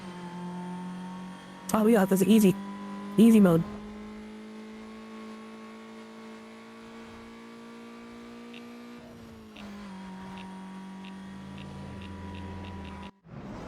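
A stock car in Need for Speed Most Wanted (2005) accelerates with a steady rising engine drone that shifts gears, holding loud and close while a person speaks briefly over it.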